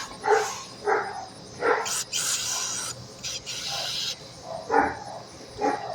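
Several sharp barks from neighbors' dogs come in short bursts, separated by stretches of broadband scraping or rasping noise, fairly close, during carburetor work.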